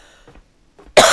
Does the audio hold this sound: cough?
yes